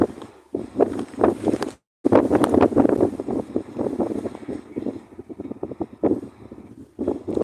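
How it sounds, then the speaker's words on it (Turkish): Strong outdoor wind buffets the microphone with continuous loud rumbling gusts that rise and fall, broken by one brief dropout, with no clear speech over it. "Çok rüzgar var aslında."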